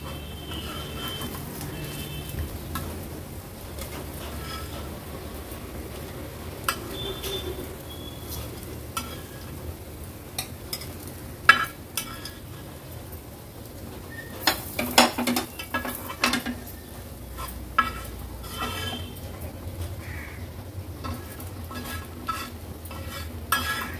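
Fried fish (wakti) in a pan on a griddle being lifted out onto a plate, with a low sizzle under scattered metallic clinks and scrapes of a utensil, no talking.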